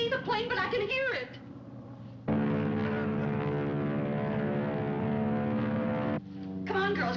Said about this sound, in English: I can't see the plane, but I can hear it